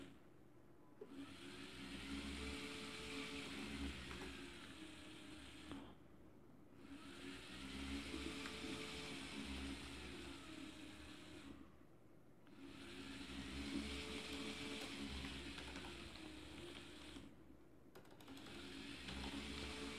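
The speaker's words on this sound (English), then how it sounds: "if you want to run the motor in opposite direction" A small DC motor driven by an L293D H-bridge with an Arduino whirs in repeated bursts, each run humming steadily for several seconds before brief pauses, close and fairly quiet.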